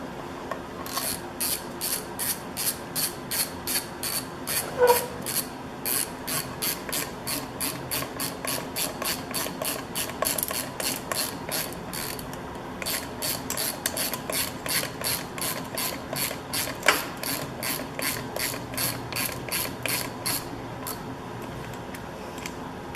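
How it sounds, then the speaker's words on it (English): A ratchet clicks steadily while tightening the clutch cover bolts on a Honda CB500 motorcycle, a long run of rapid, even pawl clicks in short bursts, close and clear with no talking. "once they're all started, then we can torque them down."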